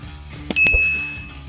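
A bright notification bell sound effect rings once, a clear metallic ding with a short ringing tail over a low steady hum.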